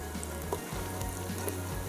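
Tadka tempering sizzles steadily in a hot pan while cooking paya, a dense continuous frying hiss with faint stirring, close and alone without talk.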